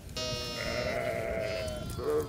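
A long-wool meat breed sheep on a grass-fed farm gives one drawn-out, wavering bleat close by, followed by a shorter second call, with faint background noise.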